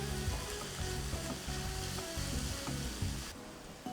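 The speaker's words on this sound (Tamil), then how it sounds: "ஸோ நம்ம கேப்சிகம் போட்டு ஒரு 3-4 minutes வதக்கிட்டோம்" Capsicum sautéing in a pan for millet fried rice gives a soft, steady sizzle at low level, with a faint rhythmic pattern of tones running beneath it.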